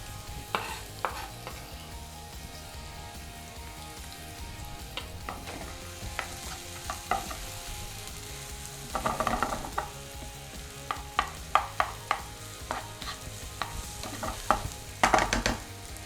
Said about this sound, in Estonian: Õli on kuum, väga hea. Siis ma viskan kohe esimese asjana siia sibula peale.